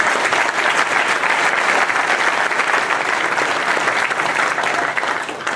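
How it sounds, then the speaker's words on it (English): Loud, sustained applause from an auditorium audience fills the whole stretch, dense and even with no pauses. "we should take the opportunity to really applaud"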